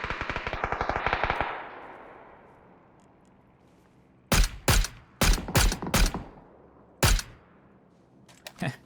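Rapid automatic gunfire in PUBG rattles at first, then fades; after a lull, several sharp single shots crack out in quick succession, with another faint one near the end.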